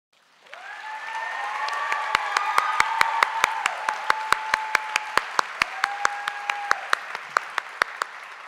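Warm applause from a gala audience for a secondary teacher of the year, starting suddenly and holding steady and full for several seconds, with sharp individual claps standing out and a few cheers rising over the crowd.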